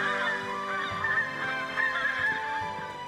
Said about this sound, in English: It sounds like a whole flock of geese.